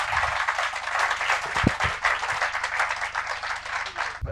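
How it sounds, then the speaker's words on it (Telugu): A young crowd at a politician's interaction session with first-time voters bursts into dense, loud applause that holds steady and then stops abruptly at the end, with a low hum underneath. "ఒకసారి గట్టిగా క్లాప్స్ కొట్టండి."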